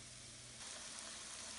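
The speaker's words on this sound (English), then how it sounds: "Here's the pickerel. Hear the sizzle face down." A pickerel fillet placed face down in hot olive oil sizzles steadily in a pan, a soft, even crackling hiss that swells slightly partway through.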